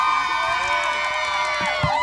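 Loud, sustained cheering fills a packed football stadium during a high school playoff game, a dense roar of many voices with high whoops and shouts, and a voice speaks briefly within it.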